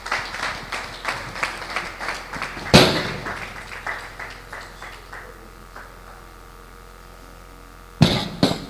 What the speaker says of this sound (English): Come on, a very great round of applause.